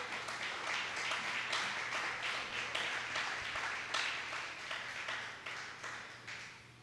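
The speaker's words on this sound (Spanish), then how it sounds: "Dale un fuerte aplauso al que vive." A church congregation applauds during a sermon, a fairly quiet and continuous wash of clapping from a room full of people with a faint steady hum beneath.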